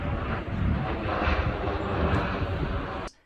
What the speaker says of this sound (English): I definitely hear planes.